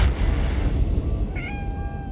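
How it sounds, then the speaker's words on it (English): A cat meows in the horror video game Conarium, a single drawn-out cry rising over a dense, rumbling game ambience and heard fairly close. "Kitty cat!"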